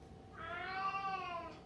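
An elderly cat gives a single drawn-out meow, rising and falling over about a second, close by and moderately loud against quiet room noise.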